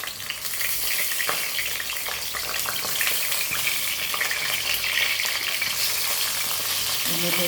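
Pointed gourd (potol) fries in a couple of ladles of hot oil, a dense, steady crackling sizzle close up with occasional spatter and stirring and no talking.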